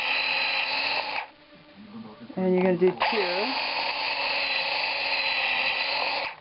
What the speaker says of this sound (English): you're pre-drilling this brace that we forgot about